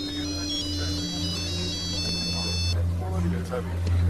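A telephone ringtone plays a bright, repeating electronic melody for a few seconds before cutting off, with a voice and steady low background sound underneath from a dubbed TV drama scene.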